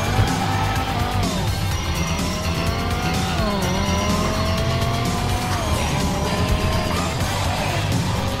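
Supercar engine in GTA 5 on PC, revving and shifting with rising and falling pitch sweeps, tires squealing and skidding, loud and continuous with a steady background game mix throughout.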